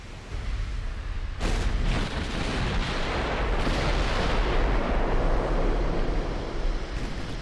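Naval gunfire striking a battleship in Ultimate Admiral Dreadnoughts: a sudden heavy booming impact that gives way to a sustained, rumbling roar like wind and surf, loud and continuous with no talk.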